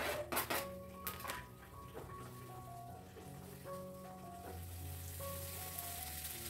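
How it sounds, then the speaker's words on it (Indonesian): Spice paste hits hot oil in a wok and sizzles steadily for several seconds, a close, continuous frying hiss with scattered sharp crackles and clinks of a utensil stirring it. "Lanjut si bumbunya aku cemplungin di oseng-oseng."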